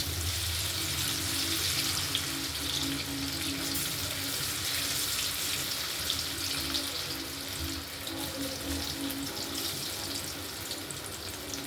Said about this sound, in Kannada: ನೋಡಿ ಎಣ್ಣೆ ಕಾಯ್ತಾ ಐತೆ ನೋಡಿ ಫ್ರೆಂಡ್ಸ್ ಹಾಕೋಣ